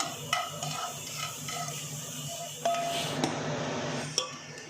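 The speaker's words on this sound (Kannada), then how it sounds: "ಈಗ ನಾನು ಹುರಿದಿಟ್ಕೊಂಡಿರೋಂಥ ಅಕ್ಕಿಯನ್ನು ಸೇರಿಸ್ತಾ ಇದ್ದೀನಿ ಇದಕ್ಕೆ" Roasted rice poured into hot, just-boiled milk in a pot for rice payasa, giving soft clinks and stirring scrapes over a steady simmering hiss, with a couple of sharper utensil knocks.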